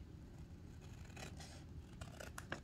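Faint scissors snipping through a sublimation print, a few soft cutting and scraping strokes close by, with quiet handling noise and no talking.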